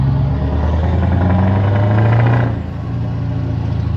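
Loud, close exhaust roar from a Scania R500 V8 truck, holding a steady deep drone while double-shifting gears, then dipping briefly near the end before settling back into a slightly lower, continuous rumble.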